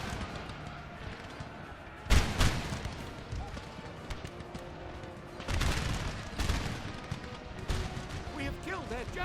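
Musket volleys crack out in Napoleon: Total War, with several loud rolling bursts of massed fire landing at irregular intervals through a dense battle din.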